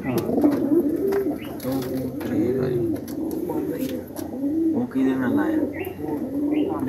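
Pigeons kept by a pigeon fancier coo in steady, overlapping soft throaty calls close by, with faint chirps mixed in and people talking underneath throughout.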